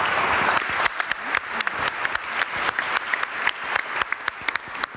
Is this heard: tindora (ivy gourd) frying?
no